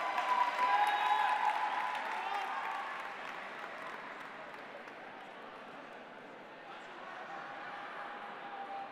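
An audience claps for prize winners at the Robocampeones 2015 robotics competition award ceremony, a dense burst of applause that starts fairly loud and gradually thins and fades, heard from a moderate distance.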